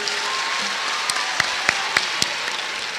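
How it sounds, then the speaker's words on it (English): Audience applause for the 2022 champions of a renewable energy competition in Ghana, a steady dense wash of clapping with a few sharper individual claps standing out, heard alone without talk. "Ladies and gentlemen, a round of applause for the champions."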